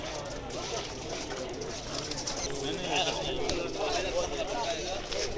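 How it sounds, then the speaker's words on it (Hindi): Pakistani Kasuri pigeons in Jeddah coo and flutter in a dense, continuous murmur from a flock nearby, with people talking over them throughout. "कसूरी कबूतर"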